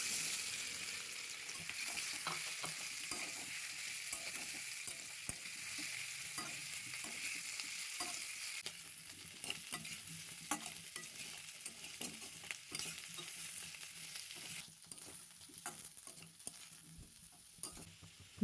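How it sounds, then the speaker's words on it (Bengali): Small new potatoes frying in oil in a hot wok, with a steady hissing sizzle and occasional stirring clinks that carry on throughout at a moderate, even level, with no voices. "কড়াই গরম করে পরিমাণ মতো তেল দিয়ে ডিম আর আলুটাকে ভেজে নেব"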